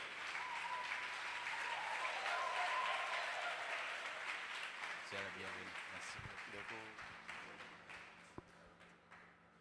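A church congregation applauds, a dense, steady patter of many hands that slowly thins toward the end, with a voice speaking alongside.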